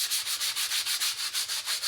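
Carbon fibre being sanded by hand with 240 grit sandpaper, a steady scratchy rubbing in even back-and-forth strokes, about eight passes in quick rhythm, close and alone.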